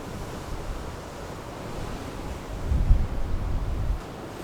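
A high sea breaks against the shore on a windy coast. Steady broadband wind roar and surf swell into a louder, rumbling surge of waves toward the end, with no voices.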